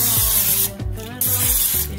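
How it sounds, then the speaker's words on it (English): A spray bottle mists oil into a bowl for burger bun dough, giving three quick hissing bursts with short gaps between them, close and loud with no talk. "just add or spray some oil"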